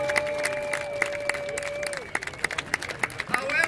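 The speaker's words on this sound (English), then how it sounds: "let's give them a big round of applause" Audience applause at the opening ceremony of a pool world championship in a Las Vegas hotel, a brief burst of crowd clapping that thins into scattered claps while a voice speaks.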